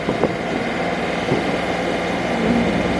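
Boat engine running at 1,250 RPM while cruising at about 4.5 knots into the wind, producing a steady, continuous rumbling drone close by with no speech.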